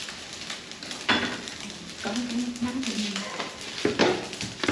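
Rice frying in a pan during a home breakfast in Vietnam, with a steady sizzle broken by scraping and metallic stirring knocks. A voice briefly speaks over it.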